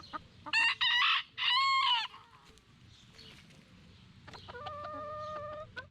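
Chickens clucking and crowing loudly in a few bursts near the start, then quieter clucks and a short harmonic crow later over low background noise.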